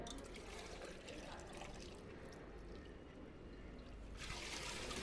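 Steady trickling and pouring of water being added while making bread halwa, a continuous splashing stream that brightens and grows louder near the end.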